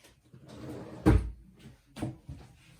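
An envelope drawer is pulled open and pushed shut, a sharp thump followed by a quieter knock a second later, close and fairly loud amid faint rustling.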